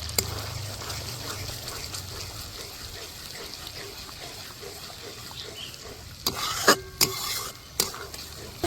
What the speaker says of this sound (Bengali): এবার খুব ভালো করে আমি মিশিয়ে নেবো